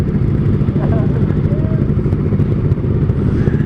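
A Kawasaki ZX25R motorcycle fitted with an R9 exhaust revs near a traffic light, its loud raspy high-revving engine note holding steady and close, with light clatter and traffic around it.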